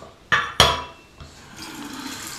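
Water poured into a small ceramic shaving bowl, with two sharp clinks of the vessel followed by a soft, steady trickle of liquid filling it nearby.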